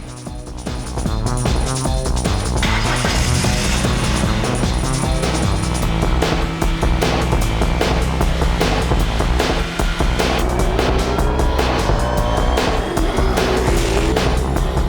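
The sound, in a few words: cars being driven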